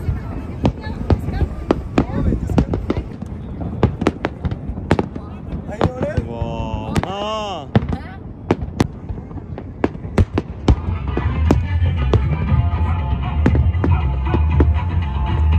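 Fireworks burst overhead during a night dhow cruise in Dubai Marina, a rapid series of sharp bangs and crackles with a whistling rise partway through, heard under people's voices and engine rumble.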